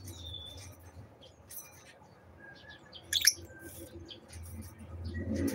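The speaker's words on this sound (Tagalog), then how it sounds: "Ito po ang aking mga lovebirds." Pet lovebirds giving scattered faint chirps and one sharp burst of squeaky calls, over a quiet room background with soft rustling.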